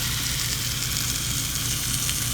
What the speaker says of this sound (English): And close it. Listen to that sizzle.